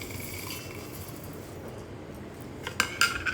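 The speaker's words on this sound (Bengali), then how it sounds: "মিক্সিতে আমি মশলাগুলোকে দিয়ে দিলাম" Spices dropped into a mixer grinder jar: a low steady hum at first, then a few faint, brief metallic clinks and rattles near the end.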